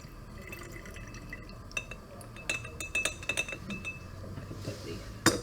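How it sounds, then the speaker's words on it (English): Diluted TAE buffer poured from a measuring vessel into a glass conical flask holding agarose powder, with a short close trickle of liquid and several clear glass clinks and taps, quiet and with no talk. "I've also measured out 50 milliliters of my diluted TAE buffer stock. So add that."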